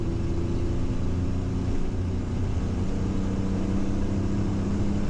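Danger Ranger truck engine idling in a steady, close, low rumble with slight surging, and no clear rev climb.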